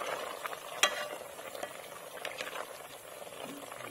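Ginataang kalabasa, squash cooked in coconut milk with dried fish, is stirred in a pot at home. Faint sizzling and bubbling go on steadily, with soft scrapes and one brief clink of a utensil against the pot.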